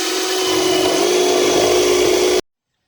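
A power drill bores steadily through a plastic planter bucket for about two and a half seconds, a close, loud, continuous whir that cuts off abruptly.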